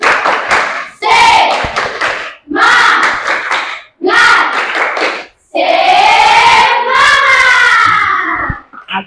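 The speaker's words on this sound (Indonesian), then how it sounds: "Tepuk semangat." Vocational school students in a classroom perform a rhythmic spirit clap in loud, sharp group bursts separated by short pauses, mixed with shouted chanting and finishing in a sustained cheer.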